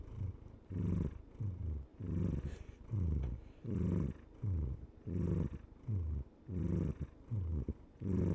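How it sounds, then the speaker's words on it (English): A pet cat purrs loudly right into a microphone, each rumbling breath cycle pulsing in a steady rhythm of about eight or nine close, throaty swells. "Listen to him purring away."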